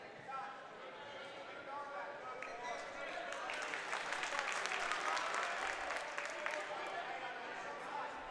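A crowd at a high school wrestling dual meet, the Catholic School Duals, reacts to an upset, its cheering and applause swelling loudly at mid-clip before easing off slightly.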